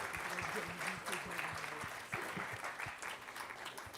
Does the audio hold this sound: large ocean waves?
no